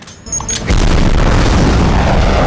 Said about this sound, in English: her walking away and blowing it up with the real explosion shot at nighttime